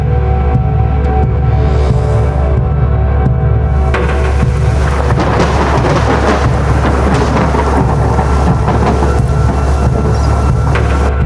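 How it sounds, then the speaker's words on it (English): Heavy, unbroken rain pours down under deep rumbles of thunder, loud and steady throughout, with a sharper burst of rain and thunder partway through. "Because the rain was getting heavier and did not stop"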